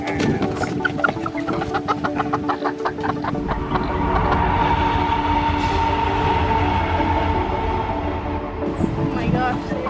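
A steady rumbling passing train, loud and continuous, with clucking giant fighting chickens and voices over the first half.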